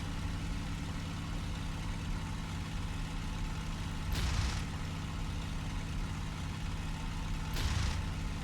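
A WWII fighter plane engine in Il-2 Sturmovik drones steadily at high power, a low, continuous hum with two brief hissing bursts partway through.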